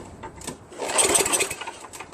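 A Craftsman snowblower with a 9HP Tecumseh engine is pull-started with the choke on after carb cleaner, giving a loud rasping recoil pull and brief sputtering churn that fails to catch, close by with no talk.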